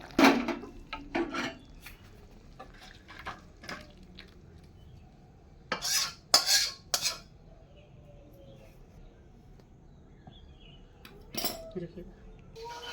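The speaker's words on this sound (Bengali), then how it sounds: "ভালো করে মাখবো, আগে ময়ামটা মেখে নেব।" Flour dough being kneaded by hand with oil shortening, for coriander kachori stuffed with peas: soft, irregular rubbing and squishing with scattered sharper knocks and clinks, fairly quiet throughout.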